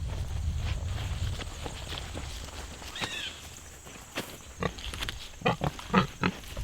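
Pigs on a farm snuffling and grunting at a cement trough as they are fed scraps and curdled milk, with footsteps and clattering nearby, moderately close.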